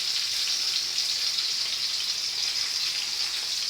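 Sliced aubergines frying in hot oil until golden, a steady, dense sizzle with fine crackling that holds close and even throughout, with no voices.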